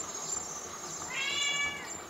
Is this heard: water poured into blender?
no